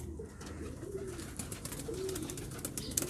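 Pigeons coo in low, soft, repeated calls against a steady background hum, with a couple of clearer coos standing out near the middle of the clip.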